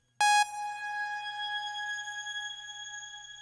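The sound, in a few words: reverb tail rising in pitch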